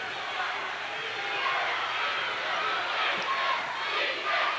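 Basketball crowd at a 1994 Nebraska Class C2 state boys championship game roaring steadily through a scoring run, a broad, sustained swell of cheering and yelling from a packed gym with no break.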